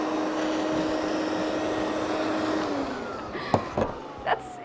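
A Hex Bots wall-climbing suction toy runs like a small vacuum cleaner, a steady whirring drone with a faint whine that fades and is followed by a few light clicks and knocks.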